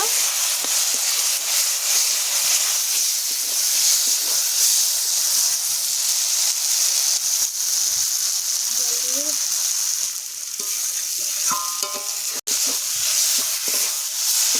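Fried potatoes sautéed with spices in a pan for a light bata fish curry, giving a loud, continuous hissing sizzle throughout, with faint stirring scrapes and one sharp click near the end.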